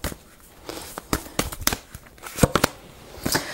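Tarot cards riffled and drawn in a series of quick crisp snaps and papery flutters, some louder clusters near the end, close up with no voice.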